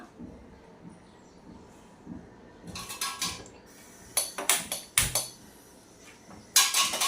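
An iron kadai is set down on a gas stove, giving several sharp metallic clanks and scrapes in short bursts between quiet stretches, close by, with no speech.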